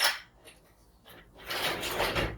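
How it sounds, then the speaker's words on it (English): The cab door of a 2018 Ram Promaster 3500 box truck cutaway slides shut close by, a brief rough rushing scrape that ends the movement, with no talk. "you can actually shut this door"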